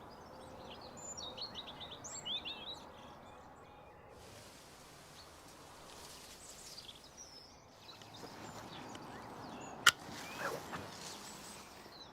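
Birds sing in a garden where tree ferns are being tended, with light, scattered chirps and tweets that are clearest early on, over quiet outdoor ambience and a few soft rustles.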